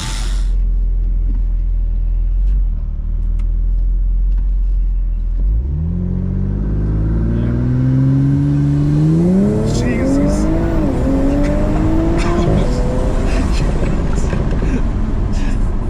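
A B9 Audi S4 V6 engine idles low, then revs up steadily with rising pitch, dipping and climbing again in a loud, close, continuous roar.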